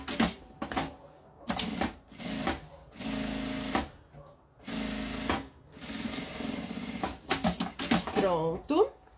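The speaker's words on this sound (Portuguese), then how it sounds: "vou passando essa costura na beiradinha" A sewing machine stitches a seam along the edge of a makeup bag in repeated bursts of rapid, close mechanical whirring, with short pauses between runs and someone speaking between and over them.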